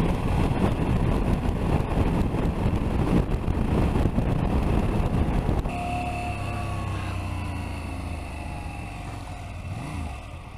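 A KTM 790 Adventure motorcycle on a highway, a steady engine drone heavily buffeted by wind rush for most of the stretch, then easing to a smoother, quieter tone with shifting pitch lines, no talk.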